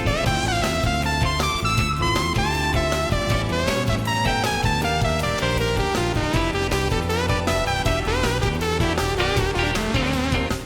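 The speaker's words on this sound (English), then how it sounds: "This instrument is called an EWI, electronic wind instrument." An EWI electronic wind instrument in skilled hands plays a fast, busy melodic line over a full band with drums and bass, continuous and loud from start to finish.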